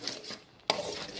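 Thick almond halwa is stirred in a pan, producing short rubbing scrapes of a spoon against metal with one sharper clink near the middle.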